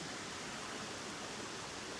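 Creek water flowing outdoors in a steady, even rush, faint and unbroken for the whole moment.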